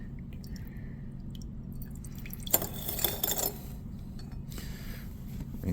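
Deionized water drains and drips from a rinsed glass separatory funnel into waste in a lab, a faint trickle with a brief burst of splashing and clinking midway.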